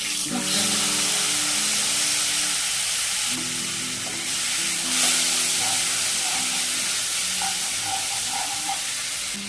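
Cumin and turmeric paste hits hot oil for an aloo-potol vegetable curry, giving a loud, steady sizzle and frying hiss across the whole stretch, with faint stirring clinks and no talking.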